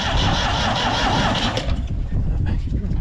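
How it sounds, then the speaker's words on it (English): A burnt Ford 4000 tractor, abandoned for over twenty years, turns over and fires up with a loud, rough, sputtering engine rumble at close range. "try firing it up again."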